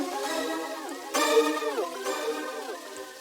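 Bright synth stabs with harmonics that bend downward in pitch at the end of each hit, three or so in succession, with no low end.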